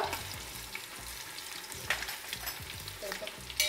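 Asafoetida, mustard seeds and cumin temper in hot oil, making a crackling sizzle with small pops and spoon scrapes, close and fairly quiet, and a voice murmurs faintly in the background.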